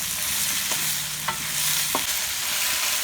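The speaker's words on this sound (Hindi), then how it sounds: "ये देखिए हमने इसको अच्छी तरह भून लिया है।" Boiled cauliflower frying in a pan during curry-making, with a steady sizzle and a few sharp scrapes of stirring spaced through the clip.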